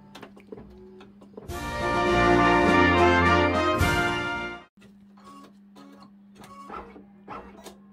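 A sewing machine runs a zigzag stitch to tack down a layer under a plastic topper. Its loud, fast mechanical burst lasts about three seconds, with quiet ticking and handling sounds before and after.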